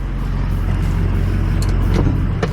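A 6.7 Cummins diesel pickup fitted with a massive turbo rumbles steadily at close range as it backs up, a loud, low, continuous engine drone with a few faint higher squeaks and clicks.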